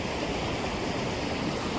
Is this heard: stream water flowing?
yes